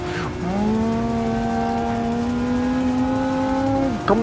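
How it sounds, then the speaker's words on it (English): Lamborghini Aventador LP 700-4 (2011) V12 engine revving in Gran Turismo 7 on PS5, a loud sustained high rev held steady for several seconds, rising at the start and dropping off at the end, with no talk over it. "The V12 engine going crazy."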